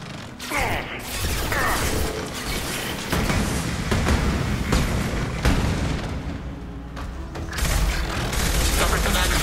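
A hacked defensive turret firing in Mass Effect 2 amid combat, with continuous loud booming and mechanical rattling bursts mixed with game noise, and voices speaking over it.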